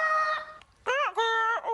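A human voice imitates the call of a make-believe Humpty bird. It gives a short crow-like note, a pause, then two longer, wavering, rooster-like calls, close and fairly loud, with no other talk.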